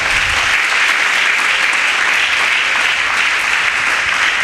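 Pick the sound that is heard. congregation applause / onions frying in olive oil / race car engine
congregation applause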